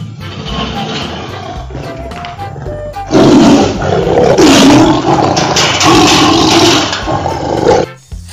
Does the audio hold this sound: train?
no